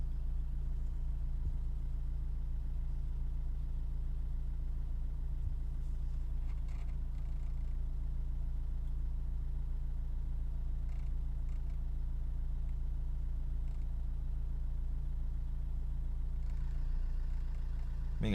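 Renault Mégane III dCi diesel engine idling warm, a steady low hum up close with faint intermittent ticking or rattling noises over the drone, no talk.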